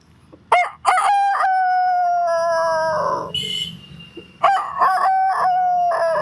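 A voice mimics a rooster's crow, two loud drawn-out calls with a sustained wavering tone, close up and with no other sound.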